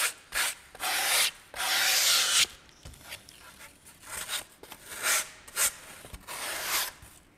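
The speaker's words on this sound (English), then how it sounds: "with a small piece of sandpaper put your finger in there and soften those edges" Small wooden heart edges are rubbed with a piece of sandpaper in close, scratchy bursts, several back-and-forth strokes with brief pauses between them, nearby and alone.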